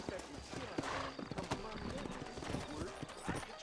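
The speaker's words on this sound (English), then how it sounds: "just following this guy getting on the horses" Horses in the Red Dead Redemption video game gallop with a rapid, continuous clip-clop of hooves, and voices talk over the hoofbeats throughout.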